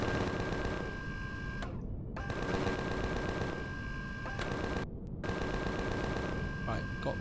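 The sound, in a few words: machine gun fire shooting a troop transport in Empyrion Galactic Survival video game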